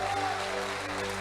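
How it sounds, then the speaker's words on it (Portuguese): A church congregation applauding during a sermon, producing a dense, continuous wash of clapping that fills the space, heard steadily under sustained organ or keyboard tones. "Aplaude a Deus aqui, igreja,"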